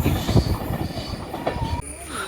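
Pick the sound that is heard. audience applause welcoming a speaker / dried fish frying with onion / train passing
train passing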